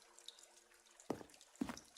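Water in The Stanley Parable, two soft splashes about half a second apart over a quiet, faintly humming background.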